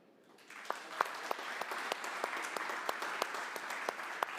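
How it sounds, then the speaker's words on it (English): Audience applause at a 5G and broadband conference session, a steady wash of clapping swelling in after a quiet start, with a few sharper individual claps standing out near the microphone. "this applause now, Eric, is really for you for making this happen"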